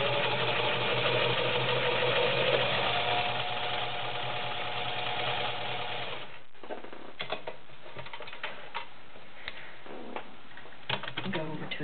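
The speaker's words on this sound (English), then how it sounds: "We'll start with just a straight stitch." A White Husky model 1510 convertible sewing machine sews a straight stitch, its motor whirring steadily up close for about six seconds before stopping, followed by scattered light clicks and handling noises.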